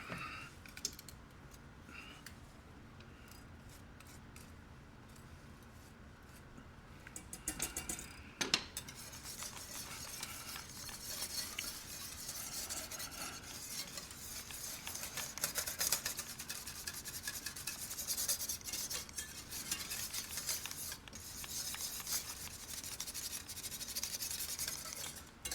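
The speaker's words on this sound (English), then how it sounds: "I'm going to switch to a whisk" A wire whisk scrapes and clinks rapidly against a pan while stirring milk gravy for biscuits and gravy, a steady metallic rubbing and clattering that grows busier and louder partway through, with no talking.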